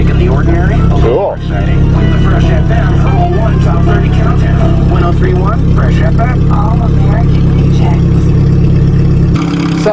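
A 1994 Chevrolet Cavalier engine idles on stale gas with a steady, loud drone and a constant low hum, while a person talks over it throughout.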